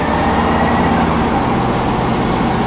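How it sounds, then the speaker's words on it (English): An older Chevy Cheyenne 3500 HD boom truck engine runs at a steady, even drone, loud and close, with no misses or changes in speed. "It's an older truck, but it runs good and has a lot of life left in it."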